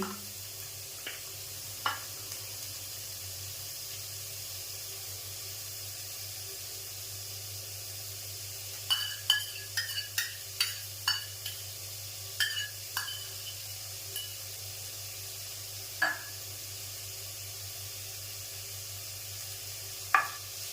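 Chopped onion fries over low gas in hot oil for potato paratha, a soft low sizzle under steady hum, broken by scattered clicks and stirring taps from the pan.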